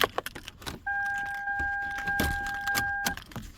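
A key turns two clicks in the ignition of a 2005 Toyota Camry, with jingling keys and a quick click, followed by a steady two-tone electronic chime that holds for about two seconds before cutting off.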